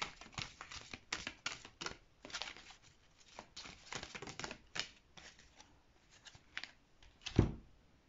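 Brand-new oracle cards, still slightly stuck together, being shuffled by hand in a run of quick papery riffles and flicks that start and stop irregularly, close and fairly quiet, with no voices.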